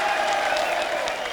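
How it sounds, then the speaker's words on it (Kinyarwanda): Crowd applauding at an outdoor gathering of motorcycle taxi riders in Kigali, a steady wash of clapping over the short moment. "Amashyi mu katikati, muhe amashyi."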